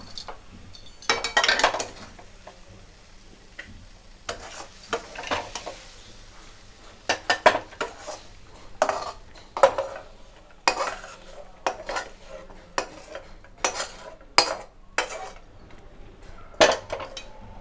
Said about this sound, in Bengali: এবার আমরা কুকারের মধ্যে ডালটা দিয়ে দেব।